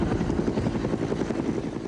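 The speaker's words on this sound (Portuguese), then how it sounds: "Helicópteros militares de 4 países participam da missão internacional de ajuda às vítimas da tragédia." Military rescue helicopter during an international disaster relief operation in the Tyrol mountains, its rotor beating in a steady, loud rhythmic thump that fills the short clip with no talk.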